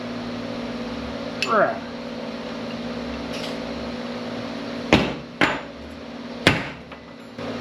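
Hammer blows on a big chunk of brass to drive out a cotter pin: a few sharp metallic strikes, two spaced apart and three more later, over a steady mechanical hum.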